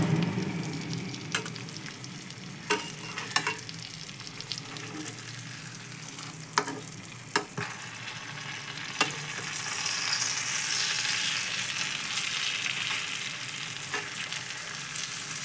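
Pabda fish frying in spiced mustard-oil masala, a steady close sizzle with sharp clicks and scrapes as the pieces are gently turned over in the pan on low heat.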